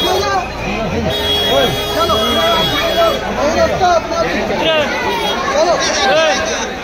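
Busy babble of many people crowding the narrow lanes of Kashi, voices overlapping close by in a continuous loud hubbub with shifting calls and talk.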